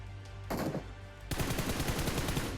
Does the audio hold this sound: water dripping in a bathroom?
no